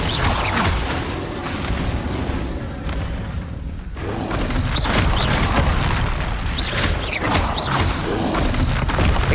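Glacius ice spell cast in the Hogwarts Legacy video game, a dense, loud burst of magical effects with booming and cracking textures, steady throughout with a brief dip before swelling again.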